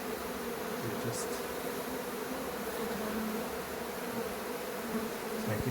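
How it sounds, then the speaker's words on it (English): Many bees from a large hive inside a bedroom buzz in a steady, droning hum, a dense swarm sound that stays fairly constant throughout with no voices. "There's a big hive, a lot of bees."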